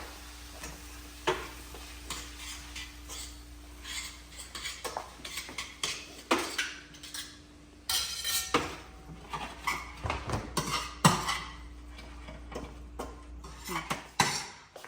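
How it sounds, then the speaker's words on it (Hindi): Chow mein noodles tossed with ketchup in a street-food-style pan, with a utensil repeatedly scraping and clattering against the metal over a steady low sizzle. The scrapes come in irregular bursts throughout. "इसको कर लेता हूँ अच्छे से मिक्स"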